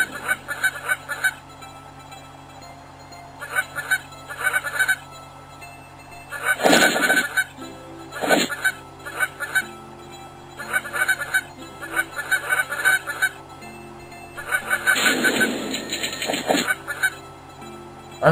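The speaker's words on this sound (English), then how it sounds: "I'm trying to get all the geese I can." Geese in a video game honk in repeated bursts, loud and clustered, over a steady synthetic background hum with little talk.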